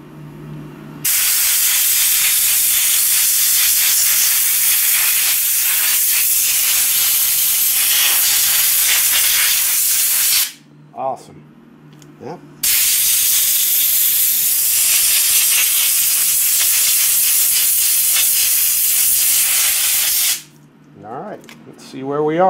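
A compressor air gun blasts dust out of a Sprint Filter P08 F1 85 air filter in two long, loud, steady hissing bursts, each lasting about ten seconds, with brief pauses in between where voices talk.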